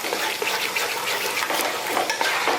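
Pasta is stirred and tossed with sauces in a pan over a high flame, with a steady wet sizzle and repeated scraping and sloshing throughout, no voices.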